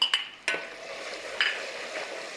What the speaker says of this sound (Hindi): एक बड़ा सा प्याज टमाटर अभी डाल दिया